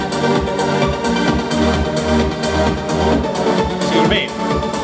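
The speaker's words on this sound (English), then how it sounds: "I have a compression on the pad sound based on the kick drum" Synth pad on a Yamaha Montage sidechain-compressed by a kick drum, the sustained chords pumping and ducking in a steady beat with each low kick, loud and continuous with no talk.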